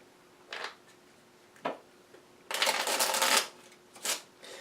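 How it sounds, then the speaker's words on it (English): Board game treasure cards for Dark Souls the Board Game are shuffled by hand: a few brief riffling bursts, then one longer riffle and a final short one, close and crisp in a quiet room. "And then I'm going to actually shuffle the actual deck."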